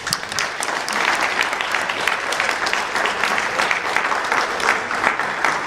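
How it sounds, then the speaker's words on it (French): An audience applauds an association in a French-speaking hall, with steady, dense clapping that runs throughout, loud and close, with no voices over it. "je vous prie d'applaudir une fois de plus pour cette association"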